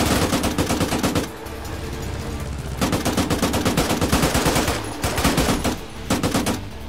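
Rapid automatic gunfire cracks in long bursts in the World War II battle game Arma 3, with short pauses between volleys and the shots sounding close and loud.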